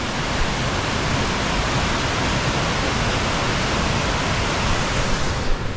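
Brush Creek Falls in a West Virginia state park roars as a constant, dense broadband rush of falling water, loud and close, with no voices over it.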